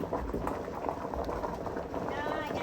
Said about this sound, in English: So it looks like it's still boiling.